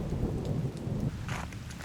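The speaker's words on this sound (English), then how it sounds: "Nothing but an occasional rumble of thunder." Low rolling thunder rumbles steadily through a thunderstorm with rain, heard from outdoors near a parking lot in Michigan's Upper Peninsula, a deep continuous growl filling the whole stretch.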